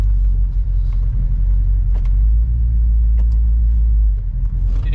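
A 1969 Plymouth Fury III rolls along slowly on a road, its engine giving a steady low rumble with continuous road noise close by and a few faint clicks over the drone, no voices.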